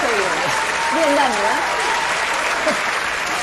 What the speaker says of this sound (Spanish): También un fuerte aplauso para ella